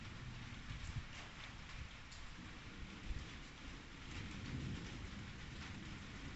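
Steady rain pours down during a bad-weather storm, with low thunder rumbling beneath it and a louder crack near the middle, a continuous wash of sound with no voices.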